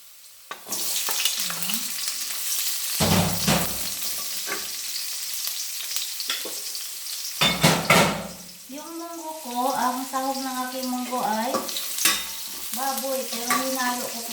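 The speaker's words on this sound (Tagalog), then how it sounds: "Igisa ko na po ang bawang. brown lang po ang bawang." Garlic sautés in a pan with a continuous sizzle, broken by a few clatters of stirring, while a voice speaks over the frying in the second half.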